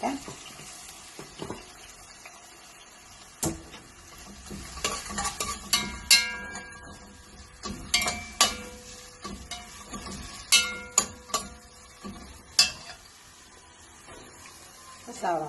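Onions frying in a pan for an easy chicken curry, a faint low sizzle behind scattered spatula knocks and scrapes, with some running water in the background.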